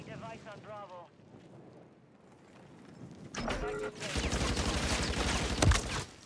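Gunfire in Call of Duty MW3 ranked play, a loud burst of rapid shots and impacts erupting in the second half after a quieter stretch with a voice talking early on.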